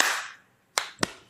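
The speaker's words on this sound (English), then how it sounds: "after the 1, we're going to clap" Two sharp hand claps in close succession, loud and alone after a brief hush, following a burst of breathy noise at the start.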